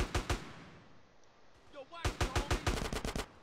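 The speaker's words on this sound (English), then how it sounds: "Ooh, they have SMGs too." Enemy submachine guns rattle in GTA San Andreas: a short rapid burst of shots at the start, a lull, then a longer, louder string of close, sharp automatic fire.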